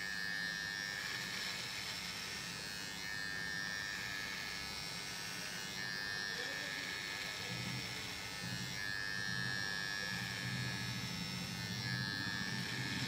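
A Philips beard trimmer buzzes continuously and close up, a steady whirring drone with slight changes as it moves.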